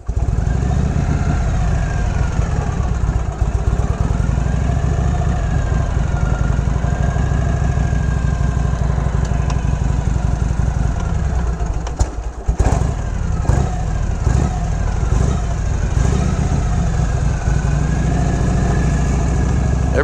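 A restored 1970 Harley Davidson FLH motorcycle engine runs at a steady low rumbling idle, close and constant, with no talking.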